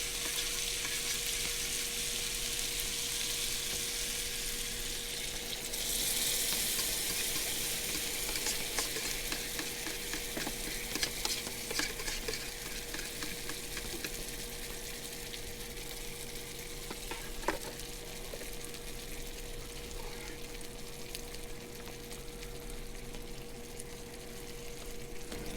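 Stir-fry of onions, peppers, sausage and pineapple with a soy, rice wine vinegar, cornstarch and pineapple juice sauce sizzles steadily in a small pan at a campsite, a continuous close frying hiss with occasional stirring scrapes and no talk.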